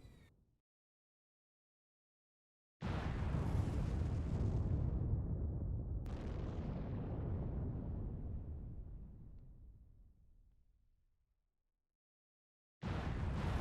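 Capital ships in Sins of a Solar Empire, in a Star Wars: Ascendancy setting, unload their batteries in a heavy, rumbling barrage of explosions that swells abruptly, holds, then fades over several seconds before another blast erupts, with no voices.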